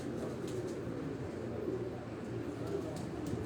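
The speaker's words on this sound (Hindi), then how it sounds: "अब्दुल बासित चौधरी का उनका ये चौथा कबूतर जो आप मेरी स्क्रीन पे देख रहे हैं" Pigeon cooing, the fourth bird in a line of roller pigeons, low soft coos repeating steadily over a constant background hum, moderately close with no clear speech.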